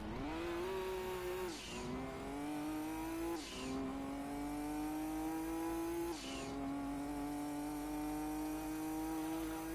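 A Castro Mugen NSX race car in Gran Turismo 2, lapping Laguna Seca in a 200-mile endurance race. Its engine drones loud and steady, climbing in pitch through each gear and dipping sharply at three upshifts.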